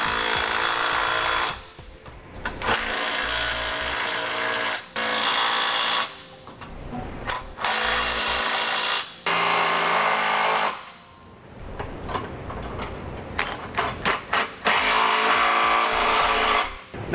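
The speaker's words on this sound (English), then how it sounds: "So we'll start snugging those fasteners down." A power tool runs in repeated loud bursts with short pauses, snugging down the fasteners on a Curt trailer hitch receiver being fitted to a 2013 Chevrolet Traverse.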